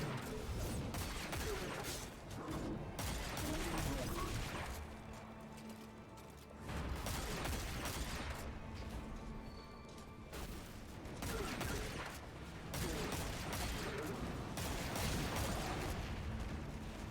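Hip-fire gunfire in a video game pours out in loud, dense bursts of rapid shots with mechanical clatter, rolling on almost continuously with brief dips between volleys.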